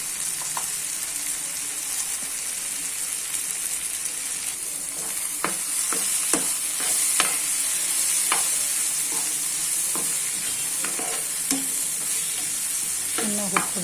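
Chilli and coriander powders frying in a pan for a fenugreek leaf gravy, a bright continuous sizzle with repeated close scraping strokes of a stirring spoon, growing busier in the second half.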